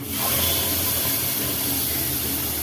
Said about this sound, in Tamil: இப்போ நம்ம அரைச்சி வச்ச பேஸ்ட்டை ஊற்றிடலாம்